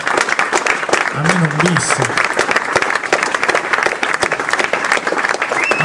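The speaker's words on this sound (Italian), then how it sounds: "Facciamo ancora un applauso e speriamo di ascoltare qualche brano" Crowd applause at an outdoor jazz concert by a quintet, loud sustained clapping throughout with a voice speaking briefly over it.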